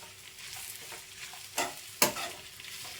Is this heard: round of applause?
no